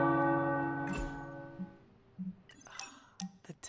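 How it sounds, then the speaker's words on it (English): Tower bells in the video game Midnight Suns ring out and fade into a long, humming decay, followed by a few light, scattered metallic clinks. "The tower bells are ringing."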